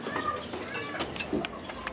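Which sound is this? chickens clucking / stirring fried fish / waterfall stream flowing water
chickens clucking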